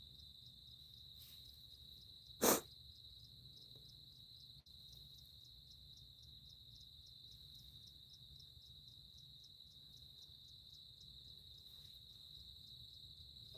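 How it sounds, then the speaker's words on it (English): Crickets chirp steadily outdoors at night, a dense continuous high trill with a regular pulsing rhythm, fairly faint, with one brief loud click partway through and low background rumble. "You hear crickets."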